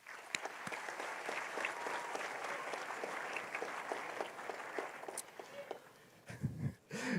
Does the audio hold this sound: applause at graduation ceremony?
yes